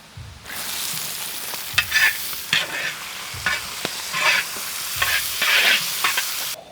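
Chopped garlic and onions fry in hot oil in a pan, giving a steady sizzle broken by repeated scraping stirs and light taps of the spatula.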